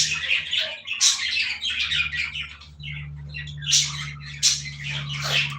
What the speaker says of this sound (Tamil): குருவி சத்தமாக இருக்கும்